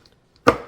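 A single sharp knife chop through jumbo shrimp on a cutting board, one close, crisp strike after a moment of near silence.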